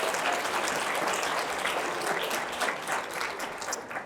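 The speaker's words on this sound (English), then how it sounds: "Let's give a round of applause for our sponsors." Sustained applause from an audience at a women's initiative program, a dense, even clatter of clapping hands that stays loud throughout and tapers slightly at the end.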